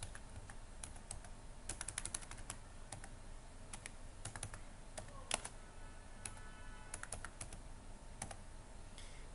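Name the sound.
typing comments on a computer keyboard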